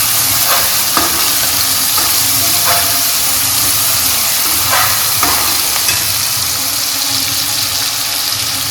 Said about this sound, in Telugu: పచ్చిమిర్చి బాగా వేగిన తర్వాత మన ఆనియన్స్ కూడా యాడ్ చేసుకున్నాము